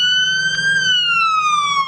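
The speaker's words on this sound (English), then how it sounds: "the bright lights and sirens of an EMS team will be there." An EMS emergency vehicle siren from the volunteer service in Fairfield Bay wails loud and close in one sustained tone that slowly glides downward, alone.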